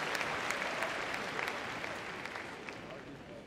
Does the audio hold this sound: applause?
yes